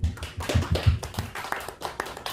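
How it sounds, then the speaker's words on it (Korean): Church congregation applauding during a sermon, short uneven bursts of hand claps with low thuds, moderately loud and brief. "하나님께 영광의 박수 올려드리겠습니다"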